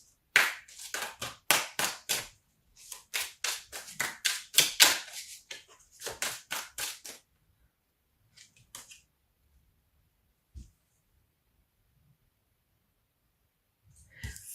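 Tarot cards shuffled vigorously in a rapid run of sharp riffling bursts, loud and close, then tapering to a few sparse taps and near silence.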